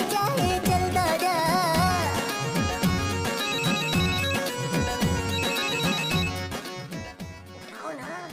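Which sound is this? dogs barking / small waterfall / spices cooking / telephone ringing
telephone ringing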